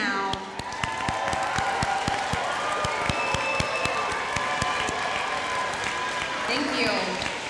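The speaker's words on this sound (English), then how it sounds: "Let's cheer for your families now." A school audience at an eighth grade recognition ceremony claps and cheers for their families, with dense steady applause, scattered whoops and a few voices mixed in.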